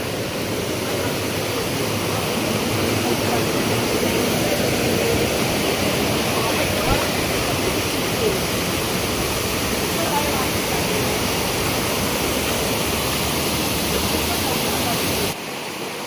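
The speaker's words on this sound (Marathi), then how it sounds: "हे बघा हे सगळं पाणीच येते मस्तपैकी वरून" Water pouring down from above into a stream in rural Konkan at dusk, a dense, steady roar close by that continues unbroken, cutting off just before the end.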